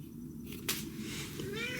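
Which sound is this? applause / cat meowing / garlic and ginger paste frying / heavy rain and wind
cat meowing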